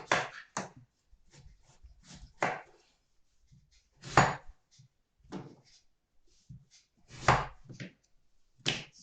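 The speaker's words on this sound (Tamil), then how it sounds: "ஸோ வாஷ் பண்ணிவிட்டு இப்போ வந்து க்யூப்ஸாக போட போகிறேன்." Butternut squash being cut into cubes on a board with a knife: sharp, irregular chopping strokes in clusters, each a firm thud with a crisp click, separated by short pauses.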